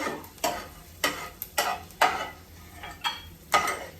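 Fried peanuts are stirred and scooped out of a pan for sabudana khichdi, a series of distinct scraping strokes roughly every half second over a faint background sizzle.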